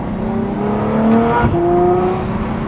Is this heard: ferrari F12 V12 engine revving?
yes